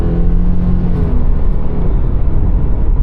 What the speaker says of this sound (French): La CVT, là, dès qu'on la pousse, ça devient tannant, c'est ennuyant, le bruit n'est pas le fun.